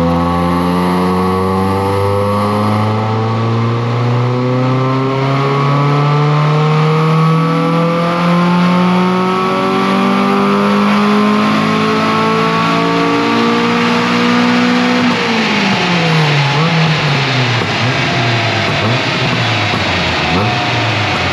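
A Honda Civic EJ9 with a 16Z6 engine swap, modified intake and exhaust, revs hard on a dyno, its pitch climbing steadily for several seconds before dropping and rising again, loud and continuous.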